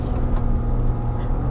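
A 2020 Ram 1500 Limited pickup's engine hums loud and close as it starts to accelerate, a steady low rumble with road noise and no rise in pitch over the short stretch.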